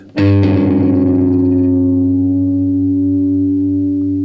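A single distorted guitar harmonic is struck during tuning and rings out with rich overtones, slowly decaying over several seconds, alone and close.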